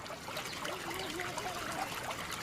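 Water trickles steadily and faintly through open sewer channels in a village along the Citarum river, a soft continuous dribble with no voices.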